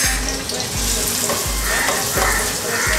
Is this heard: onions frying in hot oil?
yes